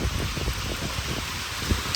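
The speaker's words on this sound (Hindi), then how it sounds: "अच्छी खासी बारिश हुई है जी आज सुबह सुबह से" Heavy morning rain pours down in a steady, dense wash of noise with faint dripping patter, continuous and close, with no voices.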